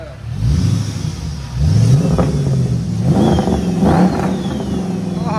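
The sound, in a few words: 6.4L HEMI Chrysler 300 with straight pipes revving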